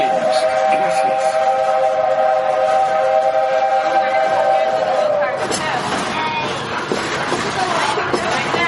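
The Walt Disney World Railroad steam train sounds a long multi-tone whistle for about five seconds, then chuffs and rattles along with crowd noise and a voice talking over it.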